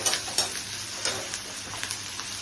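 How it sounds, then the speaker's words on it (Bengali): Onions frying in a pan while being cooked for mutton kosha give a steady close sizzle with light crackles and a few stirring scrapes, and no one speaks. "পেঁয়াজগুলোকে এভাবে ফ্রাই করে নিচ্ছি।"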